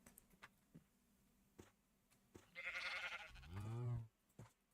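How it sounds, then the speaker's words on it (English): A single bleat from a pink sheep in Minecraft, close and fairly loud, starting breathy and settling into a wavering nasal tone for about a second, with faint ticking game sounds around it and no talking. "More pink sheep"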